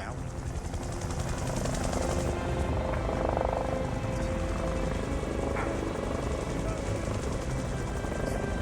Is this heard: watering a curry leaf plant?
no